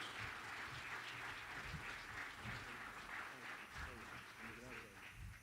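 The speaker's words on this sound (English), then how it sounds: "let's give Coach Pettway a round of applause" Audience applause greets a new head basketball coach at an introductory press conference, with steady, fairly faint clapping that continues throughout while voices murmur underneath.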